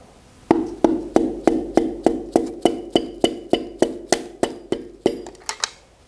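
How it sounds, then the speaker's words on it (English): Seventeen sharp, evenly spaced hammer taps ring out close and clear, seating a piston into the block of a Chrysler Hemi 5.7 V8 from a 300C, each metallic knock decaying quickly before the next. "So I have to give a little tap, make sure we're fully seated"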